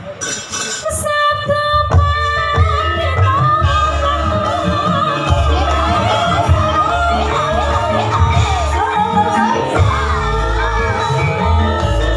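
An audience at a campursari performance cheers the singer, loud crowd shouts, whoops and yells layered over ongoing music with a heavy bass beat, continuing steadily throughout.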